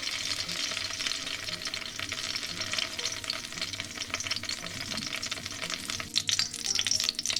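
Hot oil crackles and sizzles steadily in a heavy pan on a medium stove flame, ready for tempering spices for a Tamil fish curry, with a bright, continuous fizz and a few sharper pops near the end; no voices.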